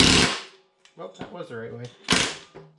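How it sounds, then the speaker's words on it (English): A cordless impact driver with a 5/8 socket works a bolt on a John Deere mower deck spindle, firing two short, loud hammering bursts at the start and end, with someone talking briefly between them. "What I've got is a 5/8 socket on my impact driver here. We're going to take our bolt off."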